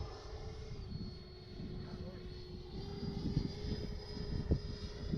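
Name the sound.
Freewing Avanti S 80mm RC jet flying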